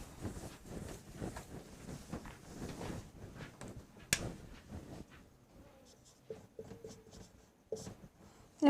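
Chalk or marker writes on a classroom board in steady scratchy strokes, close and fairly quiet, with someone talking over the first part. A sharp knock sounds midway.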